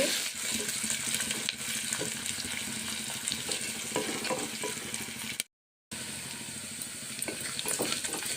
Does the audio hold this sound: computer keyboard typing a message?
no